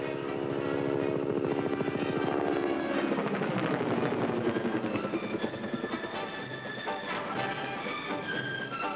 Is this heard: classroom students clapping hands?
no